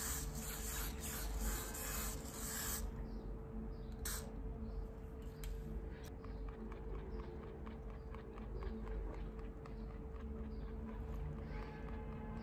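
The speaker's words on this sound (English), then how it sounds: "So we measure where it sits, guys, and then we spray over there." Spray bottle misting onto an HD lace wig during a hair installation, several quick hissing spritzes over a constant loud background hum, with no talking.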